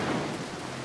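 Thunderstorm in the video game Mark of the Ninja, a brief low rumble of thunder over a constant wash of heavy rain, with no talking.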